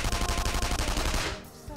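Rapid automatic gunfire in the video game Persona 5, a dense, loud burst of closely spaced shots that cuts off abruptly near the end.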